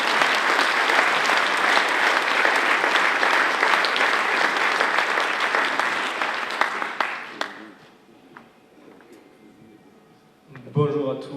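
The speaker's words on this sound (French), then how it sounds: "sous vos applaudissements." Audience applause for an award winner at the 2022 Défis d'Entreprises business awards, loud and sustained from a large crowd for about seven seconds, then thinning to scattered claps and quiet before a voice begins speaking.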